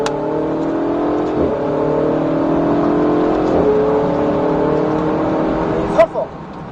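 A Ferrari 488 GTB engine revs up and accelerates, its pitch climbing steadily, with a brief knock or thump toward the end.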